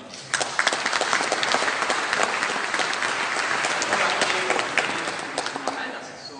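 An audience applauds at a concert honouring San Gregorio, dense sustained clapping with a few distinct sharp claps standing out, tapering slightly at the end, with talk faintly beneath.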